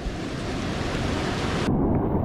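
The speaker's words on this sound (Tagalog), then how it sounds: "Malaki ang alon, ah." Large ocean waves surge and wash in a steady, loud roar during rainy, windless weather at sea while fishing, a broadband rush with no talk.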